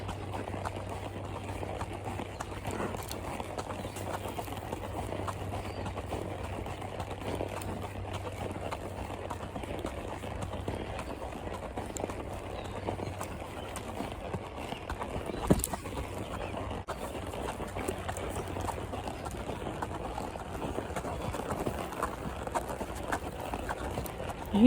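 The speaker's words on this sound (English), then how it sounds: "as each foot hits the ground. It makes a noise" Hooves of a ridden horse strike the ground around a track in a steady, fairly close clip-clop rhythm, with faint background noise and a brief bump near the end.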